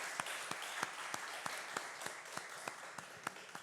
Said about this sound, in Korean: 우리 하나님 앞에 영광의 박수를 올려드립시다.